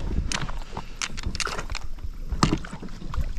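A kayak moves through the water near a shoreline, with quick, close splashes and paddle strokes in an uneven rhythm. Light wind noise runs underneath, and no one speaks.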